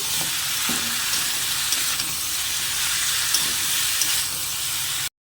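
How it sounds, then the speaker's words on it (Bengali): Vegetables cooked with spices and salt for a Malabar spinach dish sizzle steadily in a pan, close and continuous, broken by a few light scrapes and clinks of a stirring spoon. "সবজির সাথে দিয়ে ভালোভাবে কষিয়ে নেব"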